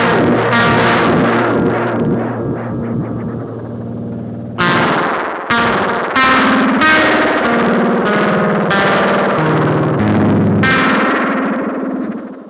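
A guitar modulation effect pedal has its rate turned up, so distorted, chorus-like notes and chords warble with an increasingly fast wobble. Sustained phrases are broken by sharp new strums, loud and alone with no talk.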